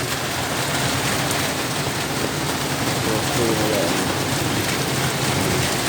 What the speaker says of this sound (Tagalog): Ganda yung panahon tapos malakas na ulan.